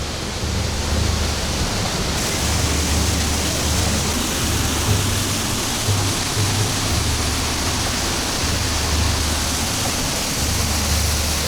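A waterfall in Costa Rica roars loudly and without a break, heard close up from the path that runs behind the falling water, a dense, steady rush with no talking.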